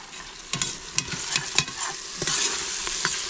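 A spoon scrapes and stirs onions, tomatoes and chopped coriander frying in a pan for Kerala-style mutton biryani. Steady sizzle runs underneath irregular, close clatters.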